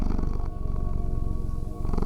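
A person imitates a cat's purr, making a low, steady rumbling vibration with brief pauses, close and alone.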